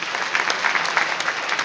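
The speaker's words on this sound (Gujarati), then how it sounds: "માનનીય આપણા રાષ્ટ્રીય કન્વીનર અરવિંદ કેજરીવાલજી માટે એકવાર તાળીઓ થઈ જાય" A political rally crowd claps for Arvind Kejriwal, a loud, dense round of applause with individual claps standing out throughout.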